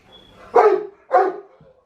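A Great Dane gives two sharp, loud barks a moment apart, close by, with no one speaking.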